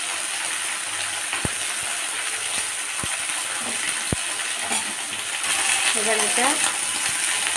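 Potato pieces and moringa drumsticks fry in a pan as a steady sizzle runs throughout, broken by several sharp clinks of a utensil against the pan and a brief spoken phrase.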